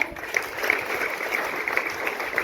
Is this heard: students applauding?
yes